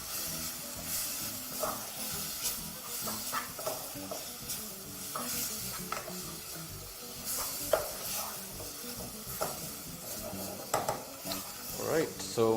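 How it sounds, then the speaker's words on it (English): Tomato stew sizzles and fries in a pan, a steady close hiss with occasional stirring scrapes and clinks of utensil against the pan, and a voice talking at times. "we're just basically going to continue frying this just until our tomatoes are completely broken down"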